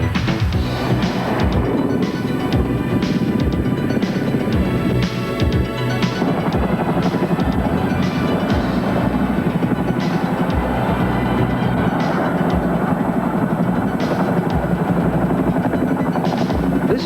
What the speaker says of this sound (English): The Sikorsky S-70A Black Hawk, a new tactical transport helicopter